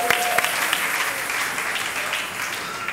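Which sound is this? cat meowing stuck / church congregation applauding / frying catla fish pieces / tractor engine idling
church congregation applauding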